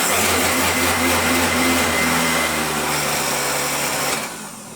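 A Tefal QB405D40 kitchen machine runs with a loud, steady motor whir and a whining hum, holding constant for about four seconds before winding down at the end.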